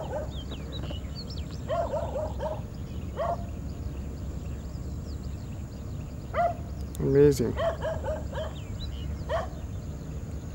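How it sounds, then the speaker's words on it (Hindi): A dog barks outdoors in the early morning by water in Islamabad, Pakistan, several sharp, moderately distant barks spaced irregularly over about ten seconds, with someone speaking briefly. "अच्छा, कुत्ता चीख रहा है कि मैं इधर बैठा हूँ।"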